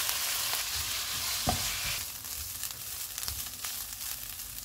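Chicken mince fries with ginger garlic paste over medium-high heat, a dense steady sizzle with soft spoon scrapes and thumps, close and continuous, with no talking.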